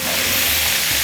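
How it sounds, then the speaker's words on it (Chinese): Duck tongues stir-fried in a wok for a spicy Sichuan dish give off a steady, close, loud sizzle with soft stirring scrapes, continuous and free of talk. "煸炒一下"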